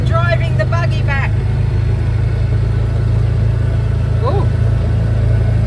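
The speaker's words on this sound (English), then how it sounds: "Right, now I'm driving the buggy back." A farm buggy's engine drones steadily at low pitch while driving on a road in Yackandandah, Australia, loud and close throughout, with a brief voice at the start and another short utterance later.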